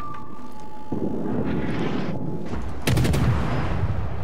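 Naval guns firing in the World of Warships video game, heavy booming blasts and dense rumbling under a steady whine, one strong salvo near the end, no talk.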